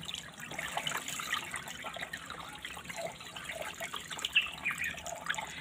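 Water drains and trickles out of soaked cocopeat, a steady low splashing dribble with small drips, moderately close and alone without talk.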